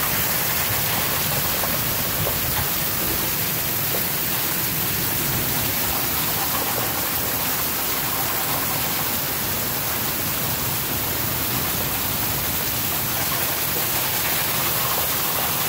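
A severe hail storm pounds down in the middle of the night in Omaha, Nebraska. It makes a dense, loud, unbroken roar of ice and rain striking surfaces, steady for over fifteen seconds, with no voices.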